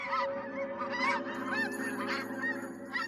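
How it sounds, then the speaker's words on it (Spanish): Migrating geese honk and call in a flock, a busy overlapping chorus of nasal honks that stays loud and near throughout, with no voices. "las aves migran"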